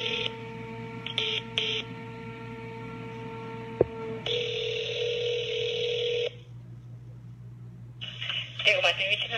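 A telephone call plays over a line as steady ringback tones and beeps in repeated blocks, with a brief click partway through and a voice coming in near the end.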